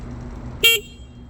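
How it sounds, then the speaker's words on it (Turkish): A CFMOTO 450 SR motorcycle sounds its horn in one short, loud, close honk lasting under a quarter second, with quiet background before and after. "Bir kornaya basalım arkadaşlar. Kornanın şiddetini görün."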